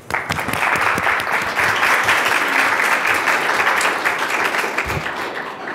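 Audience applause welcoming Dean Bertozzi at a School of Public Health event: steady, dense clapping from a large crowd that holds at an even level throughout.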